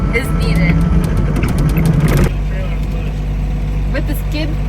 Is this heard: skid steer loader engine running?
yes